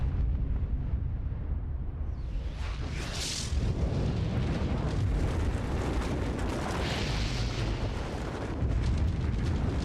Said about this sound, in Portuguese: determinar os efeitos de uma explosão nuclear em uma casa ou uma população